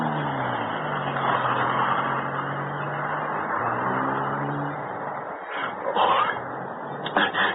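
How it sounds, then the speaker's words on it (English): A car turning a corner in a radio drama, its engine rumbling steadily at mid distance with a low droning hum, then a brief swell and a few sharp knocks near the end. "There's Hicks' car turning the corner."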